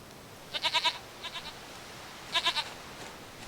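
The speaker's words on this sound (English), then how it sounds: "sweetest goat." Goat in The Witcher 3 video game bleats in short bursts, one run of four quick bleats, a fainter group of three, then another cluster of three, close and clear over a quiet background.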